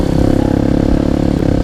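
A motorcycle engine revs with a light throttle twist, a steady close-up mechanical drone with rapid firing pulses and a slight pitch dip near the end, loud and alone.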